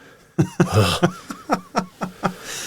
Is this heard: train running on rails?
no